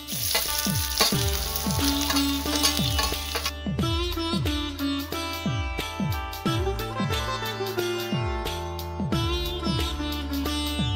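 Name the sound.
ginger and garlic frying in a wok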